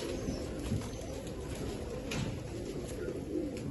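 A golden breeder pigeon and other rooftop pigeons coo softly and steadily against a constant low background hum, with no talking.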